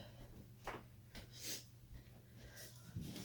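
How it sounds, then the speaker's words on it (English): A person with a cold sniffles and snorts several times at close range. The short nasal bursts are spaced irregularly over a faint low hum, with no talking. "Sorry for the sniffles."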